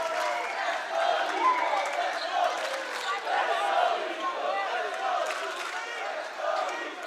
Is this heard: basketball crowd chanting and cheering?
yes